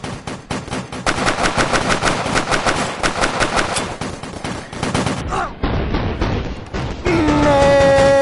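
Rapid automatic gunfire rattles loud and close in the VR cops-and-robbers shooter CrisisVRigade, with dense bursts broken by short gaps and a few closing shots over ringing game tones.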